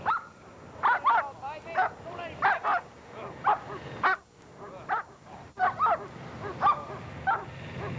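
A police dog barks repeatedly in sharp, loud bursts at a steady rhythm, close by, with a few short pauses between volleys.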